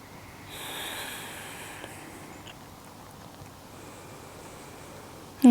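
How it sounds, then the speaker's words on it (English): Slow, deep breathing during a beginner yoga stretch on a mat: a soft, close airy inhale and exhale, then quieter breath noise, ending with a sudden louder sound. "I'm just going to take 2 deep breaths here."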